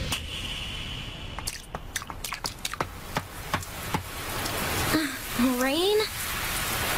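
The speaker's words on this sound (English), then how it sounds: "Rain?" Scattered raindrops patter and tap irregularly against a surface over a soft background hiss, and a voice speaks briefly toward the end.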